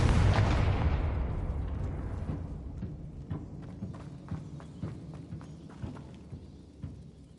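A Confringo fire spell blasts in Hogwarts Legacy: a loud, booming burst up front that decays over several seconds, followed by a string of smaller crackling pops and thumps.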